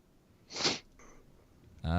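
A single sharp sniff close to a microphone, brief and breathy, followed after a pause by a voice starting to speak.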